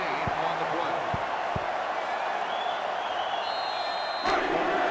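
Stadium crowd noise in the NCAA Football 2005 video game, a dense, loud, sustained roar from a sellout crowd with a few sharp thuds and a brief slam near the end.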